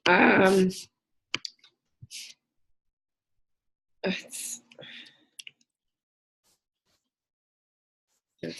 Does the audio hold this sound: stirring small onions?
no